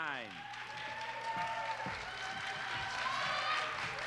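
A crowd at a performing arts competition applauds the contestants with a continuous wash of clapping, while a voice carries over it and the sound swells slightly toward the end.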